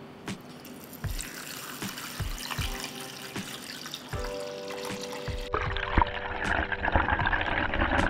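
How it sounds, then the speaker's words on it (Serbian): Water runs from a tap into a pot lined with a cloth, with glass jars standing in it, rising to lid height for pasteurizing; a steady close splashing and filling roar with a few knocks, growing fuller toward the end. "Sada ću u šerpu sipati vodu do visine poklopca."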